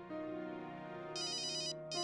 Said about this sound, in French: Maman, Zoya t'appelle.